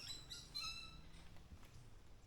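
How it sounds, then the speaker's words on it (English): Several high, quick bird chirps ring out faintly in the distance over quiet outdoor ambience, then fade. "Yeah man, you can hear all sorts of animals, all sorts of birds."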